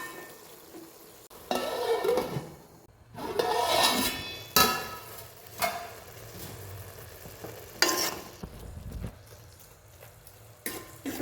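Amaranth leaves frying in a covered pan over a low flame, giving a soft sizzle broken by several louder bursts of stirring and scraping against the pan.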